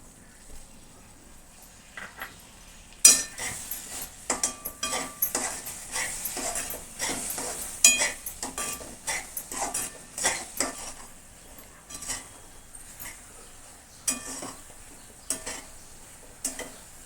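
A spoon stirs coconut barfi mixture with milk cream in a pan, giving repeated close scraping strokes and clinks against the metal in an uneven rhythm, over a faint sizzle, with no talking.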